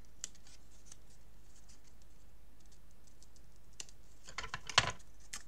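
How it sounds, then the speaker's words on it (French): Scissors snipping the corners of cardboard, a few faint sparse clicks and then a short cluster of louder crisp cuts near the end over a quiet background. "Donc, je viens couper mes angles."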